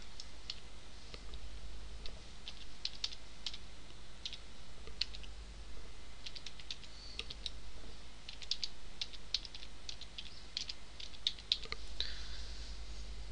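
Someone types a password on a computer keyboard: a light, irregular patter of key clicks continues throughout, close and fairly quiet, with a brief faster burst near the end, and no one speaks.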